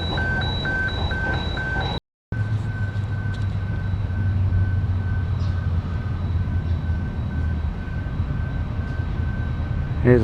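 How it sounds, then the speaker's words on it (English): A container train passing on a Queensland line near Brisbane, a steady low rumble of wagons rolling by with sustained tonal hums, continuous and fairly close for the whole stretch after a brief dropout near the start. "Here's I think it's a container train coming through."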